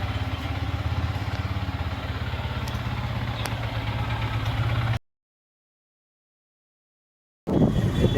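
A motorcycle engine idles steadily and close by before a ride on a Guwahati road, a low continuous throb that cuts off into silence and then returns loudly near the end.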